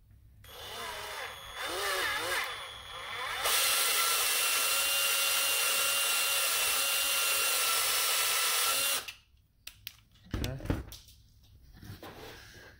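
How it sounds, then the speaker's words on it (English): A bigger drill bores into a part of a PS5 DualSense controller during a DIY grip-button mod. A sustained, close, high whine runs for about five seconds, with handling noises and a few brief sounds before and after. "And then I go with the bigger drill and drill it out."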